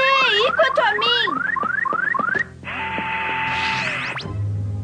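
An electronic alarm in a Megaman cartoon wails with a loud, rapid rising-and-falling warble that repeats rhythmically, then switches to a steady high tone before cutting off into a low hum.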